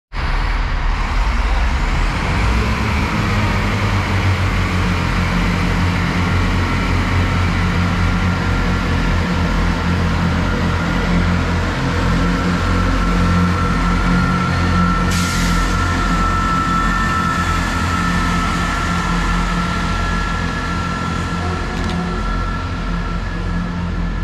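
A short Chiltern Railways diesel multiple unit, two cars, pulls out of a station bound for London Marylebone, a loud, steady engine drone and rumble close by that holds for the full stretch, with a brief hiss of air partway through.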